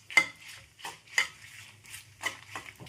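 Dried chillies are dry-roasted in a pan for a coconut spice powder. A spoon scrapes and clinks against the pan in six or seven spaced strokes over a faint low hum. No one speaks.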